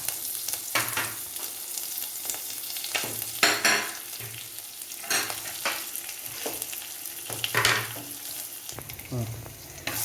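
Curry leaves and onions fry in a pan with a steady sizzle, broken by several louder crackling bursts and scraping stirs of a spoon against the metal.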